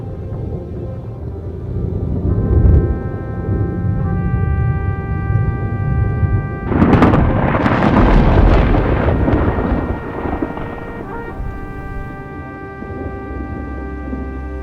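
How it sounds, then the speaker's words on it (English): A violent summer thunderstorm over the arid Great Basin desert, with a loud thunder crack near seven seconds swelling into a long rolling rumble that fades slowly beneath a steady low background drone. "The arid heat of summer is broken by violent thunderstorms"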